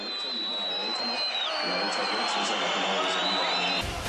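A large crowd at a political rally whistles and boos in a dense, loud, continuous wall of noise. Shrill whistles rise above a roaring mass of voices, and the din cuts off abruptly at the end.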